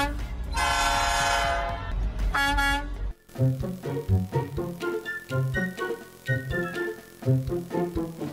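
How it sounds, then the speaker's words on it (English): A train crosses a road crossing, opening with a loud, sustained two-tone horn blast, then a run of rhythmic clacks and rumbles as the wheels roll over the crossing. "The moment the train passes over the road."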